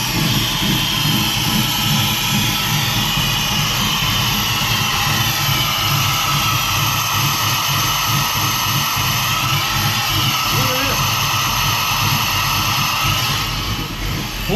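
A dragster engine running rough, sounding like a loud steady roar with uneven, sputtering pulses throughout and no talk over it.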